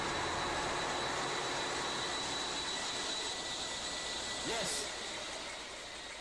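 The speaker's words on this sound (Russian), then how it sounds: "Строители ждут, когда раздастся рев мотора мощностью 30 тысяч лошадиных сил." A newly assembled 30,000-horsepower marine diesel engine for a ship roars in a continuous, loud, broad drone that eases slightly near the end.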